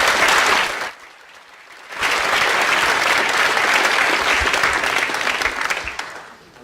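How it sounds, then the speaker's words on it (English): Applause from an audience at a school tribute night, loud and sustained, dipping briefly after the first second before swelling back to a full, steady ovation that tapers toward the end. "I think these two deserve a big round of applause"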